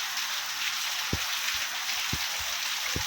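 Heavy rain pours down in a steady, dense hiss, with a few soft dull thuds of drops striking something nearby.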